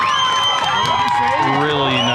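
A crowd at a girls' high school soccer game erupts in loud cheering and whooping after a goal, with excited shouts and young voices layered together in a dense, sustained roar.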